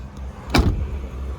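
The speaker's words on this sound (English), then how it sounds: "door closes like every OBS truck." A single solid door of a 1994 Chevy C1500 pickup truck thunks shut, a short, loud slam with a brief rattle, then quiet ambient noise.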